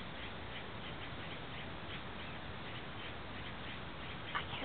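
White-necked ravens feed on termites outside a house, their calls rising from a steady, fairly dense background of bird chatter, fairly faint and continuous with a brief sharper note near the end.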